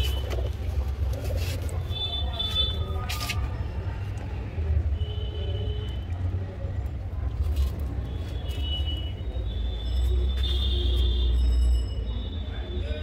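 Kamagar pigeons coo softly and repeatedly against a steady low rumble of traffic, with occasional higher chirps drifting in, at a pigeon sale.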